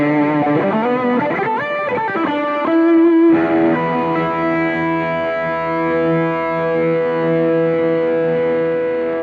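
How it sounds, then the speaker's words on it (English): Fender Acoustasonic Player Telecaster played with high-gain distorted tones through a Boss GT-1000 Core effects unit, a fast melodic run giving way to sustained, ringing chords, loud and continuous. "I'm going to utilize some high gain tones using my Bosch GT1000 core."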